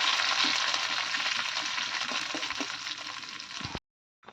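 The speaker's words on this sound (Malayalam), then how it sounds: "നന്നായിട്ട് ഒന്ന് ഇളക്കി നന്നായിട്ട് മൂത്ത് വരട്ടെ" Dried red chillies fry in hot oil for a mustard-seed tempering, giving a loud, steady sizzle with occasional spatula scrapes and stirring taps that cuts off abruptly near the end.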